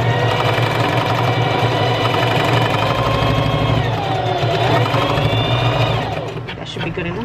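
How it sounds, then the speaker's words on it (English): A sewing machine runs a zigzag stitch across a scrunchie, its motor whirring loud and close with a rapid steady needle chatter that eases off in the last second. "I'm going to sew them together with a zigzag stitch."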